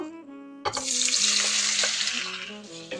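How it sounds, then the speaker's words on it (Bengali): Soya chunks hit a hot kadai of oil with a sudden burst of sizzling that settles into a steady, close frying hiss, with faint clatter near the end. "কড়াইটা গরম হয়ে গেছে এখন সয়াবিনগুলো ঢেলে দিব"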